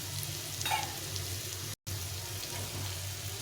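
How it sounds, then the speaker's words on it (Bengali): Ground cumin and chili powder sautéing with a splash of water in a pan for a fig recipe, giving a steady soft sizzle and bubbling throughout, alone with no talk. "1 চামচ মতো জিরে গুঁড়ো আর লঙ্কা গুঁড়ো দিয়ে এটাকে ভালো করে একটু জল দিয়ে এটাকে কষিয়ে নিতে হবে।"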